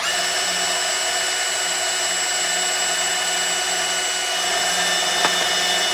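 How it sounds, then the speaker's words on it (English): A bandsaw cuts brass scrap from a five-gallon bucket, giving a steady, loud, high whining buzz that holds without a break throughout, with one brief tick near the end. "if you have a bandsaw, you can just get that real quick and be happy"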